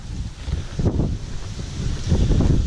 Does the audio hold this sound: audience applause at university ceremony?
no